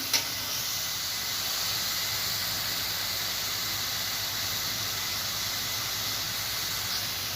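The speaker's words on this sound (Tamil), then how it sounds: "இஞ்சி பூண்டு பேஸ்ட்டு சேர்த்து நம்ம நல்லா வதக்கிடலாம்" Ginger garlic paste sautéing with onions in a pan for a vegetable biryani: a steady, loud hiss that runs throughout after a small clink at the start.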